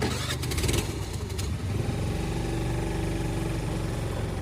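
A Yamaha R15 motorcycle engine with a cracked spark plug cap runs steadily at idle, a continuous low rumble with a brief rougher burst near the start, no talking.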